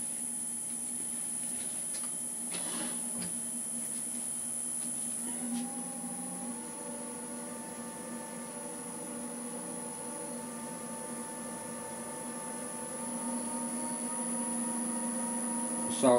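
Wood lathe running steadily while a natural edge bowl is hollowed out, a constant motor hum with tonal whine and faint scraping from the cut, continuous and moderately quiet throughout.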